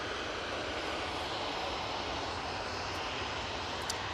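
Airliner taking off from Manchester Airport and climbing into cloud, bound for Oslo. A steady, broad engine roar holds constant throughout, distant but fairly loud, with no talk over it.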